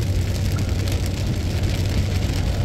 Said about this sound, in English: I'm going to go out and run in the rain with thunderstorms at Lake Huron